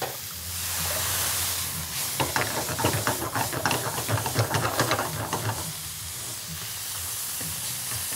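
Food sizzles in a hot skillet seasoned with salt and pepper, a steady hiss that swells into crackling, spattering bursts midway before settling back to a softer fry, close and loud with no talking.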